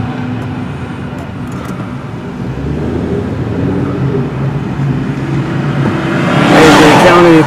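Cars move slowly in a parade of vehicles, a steady low engine and road rumble heard from inside a following vehicle, swelling louder toward the end.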